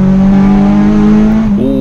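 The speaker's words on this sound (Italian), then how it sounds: "Si è sentito proprio lo swap del VTEC" Honda car engine revving hard with a steady rising tone, then a sudden jump in pitch as the VTEC switchover kicks in near the end, loud and close with no talk.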